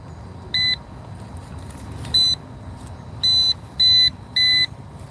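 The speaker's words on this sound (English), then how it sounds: "we're listening for the beeps to go faster" A Bounty Hunter Tracker metal detector emits five short, high-pitched electronic beeps at uneven intervals over a low outdoor rumble during a coin hunt.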